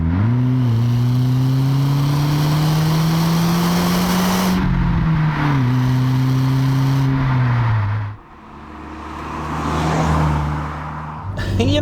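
A 24-year-old Mk1 Skoda Octavia vRS engine accelerating hard on a British B road, a steady rising drone with gear changes, heard from inside the car, ending in a lift-off and quieter rumble.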